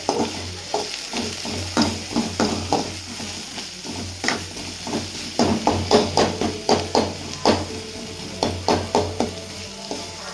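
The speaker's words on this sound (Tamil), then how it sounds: "தக்காளி போட்டுக்கலாம். வாங்க, போட்டோம். வதக்கிக்கலாம்." Tomatoes sauté in hot oil in a pan, with a steady loud sizzle broken by a quick rhythmic run of spatula scrapes and stirring knocks throughout.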